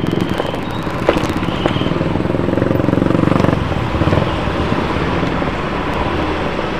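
A motorcycle rides through busy morning traffic, its engine a steady close rumble under heavy wind buffeting, with surrounding vehicles droning along and no talk.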